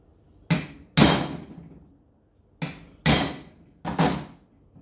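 Five sharp hammer blows on a steel lock nut of a Holden HQ manual steering box during a rebuild, struck in uneven pairs with short metallic ringing decays and quiet gaps between them.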